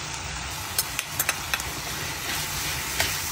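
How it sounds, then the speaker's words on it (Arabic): Liver sizzles in a pan with parsley and garlic while a spoon stirs it, several sharp scraping clicks sounding over the steady frying hiss. "هنا الكبده رايحه نخلطها شويه باش طيب"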